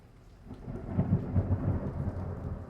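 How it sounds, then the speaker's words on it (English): Low, rumbling thunder from a lightning strike rolls through a storm in Houston, Texas, building over a couple of seconds under a soft wash of rain, fairly distant and muffled. "There's a crazy lightning strike right there."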